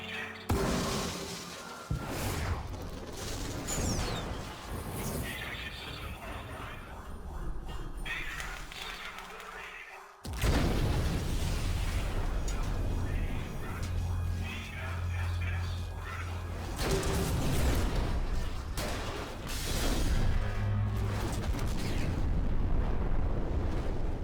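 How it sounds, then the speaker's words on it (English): A spaceship blows up in Star Citizen: loud, sustained rumbling blasts and booming bursts with crackling debris that swell and recede over many seconds, heavy and dense throughout. "When the outside is hit, you'll see the inside effects like sparks and flames, until obviously it gets to the inevitable explosion"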